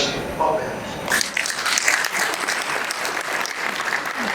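Applause from an audience at the opening of a Registrars and Magistrates judiciary conference, a dense and sustained round of clapping from a large crowd that swells after the first second and continues steadily, with some voices underneath.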